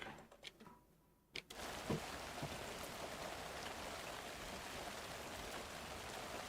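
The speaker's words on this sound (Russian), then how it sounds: "Еще и дождь пошел" After a few soft knocks, steady rain in the video game Alan Wake 2 comes in, a dense patter of drops that keeps on evenly at moderate loudness.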